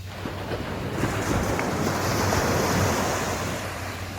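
Ocean waves break and wash in a continuous rushing surge, with wind buffeting the microphone, and no voices heard.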